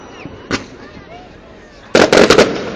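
Fourth of July fireworks in West Allis, Wisconsin: a single sharp pop early on, then a quick crackling burst of several loud bangs, with voices talking in the background.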